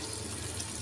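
A glass of water poured into a pan of cauliflower-stem keema makes a steady, soft trickling flow that lasts throughout without pause, fairly quiet and close, with no talking.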